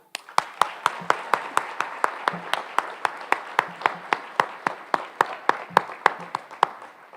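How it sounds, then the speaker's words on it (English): An audience at a high school senior awards night gives a round of applause, a steady stream of sharp, rhythmic claps from a few nearby hands over a softer crowd wash, continuing for several seconds. "And one more round of applause."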